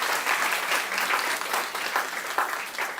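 Steady applause fills the hall from a large audience at an international pharmaceutical industry conference, a dense, even wash of many hands clapping throughout, with no pause.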